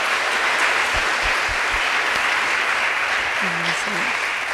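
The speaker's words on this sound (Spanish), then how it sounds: "Dale un aplauso a Jesús, quiero escuchar ese aplauso" A church congregation applauds loudly and continuously during a worship service, a dense roar of clapping with a few low thumps early on. Voices and a brief sung or spoken tone rise under the applause near the end.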